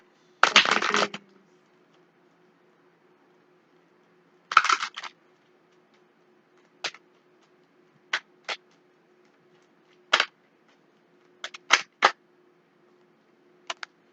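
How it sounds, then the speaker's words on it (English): A deck of spirit guide oracle cards is shuffled in two short riffling bursts, then a string of brief, sharp card taps and snaps spaced out in an otherwise quiet room. "let me just shuffle these"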